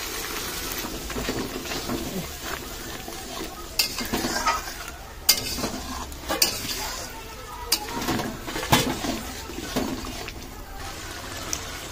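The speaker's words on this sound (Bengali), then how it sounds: "এবার ভালো করে মশলাটাকে কষাবো" Spice paste for chicken curry frying and being stirred in a pan, a close sizzle broken by repeated sharp scrapes and knocks of a spoon against the pan, with brief talk in the background.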